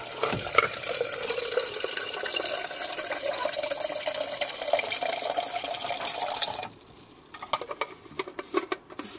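Tap water pours steadily into a cup at home, a close, bright hissing stream that rises slightly in pitch as it fills, then cuts off abruptly, leaving a few drips and small clinks.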